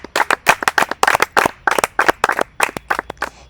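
Children in a classroom clapping their hands together, a brisk, loud run of uneven claps from a small group, close up and continuous, with no talking over it.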